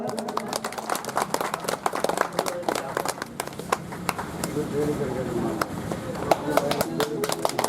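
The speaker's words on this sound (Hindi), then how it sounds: "जोरदार तालियां बजाएं" A crowd at a community association election gathering claps in a steady stream of sharp, distinct hand claps, with people talking loudly over the clapping throughout.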